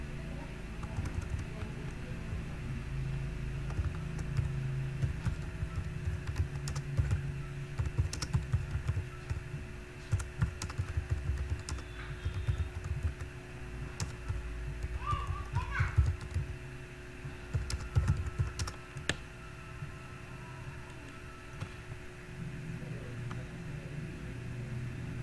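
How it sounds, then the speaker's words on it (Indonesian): Typing on a computer keyboard, a run of light, uneven key clicks under a steady electrical hum, with faint voices in the background. "silahkan Bapak Ibu tinggal ketik aja di sini ya"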